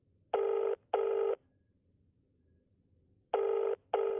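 A telephone rings in two pairs of loud, evenly spaced bursts separated by a pause of near silence, clear and close with no voices.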